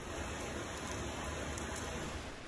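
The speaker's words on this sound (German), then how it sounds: "Es regnet und es wird auch nicht aufhören" Steady rain falls during a cold, overcast April bike tour on the Italian coast between Cetraro and Sapri, a continuous broadband hiss with faint tonal whines above it and no talk.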